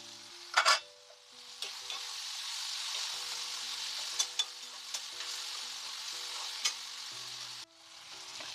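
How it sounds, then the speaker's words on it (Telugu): Cucumber and tomato curry frying in a pan as amaranth leaves go in, a soft steady sizzle with a few sharp spoon clinks and scrapes, ending in a brief hush of stirring. "మగ్గాక అప్పుడు తోటకూర వేస్తాను."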